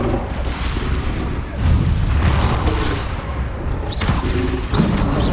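Bombarda explosion spell cast in Hogwarts Legacy, a loud booming blast with rumbling impacts and further bursts amid busy combat sounds.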